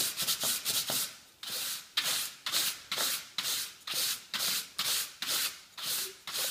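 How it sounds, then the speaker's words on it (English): A 1-inch synthetic paint brush being trimmed for gloss work is dragged over sandpaper in a quick run of rhythmic rasping strokes, about a dozen close scrapes with no talking. "when you're taking it over the sandpaper like this"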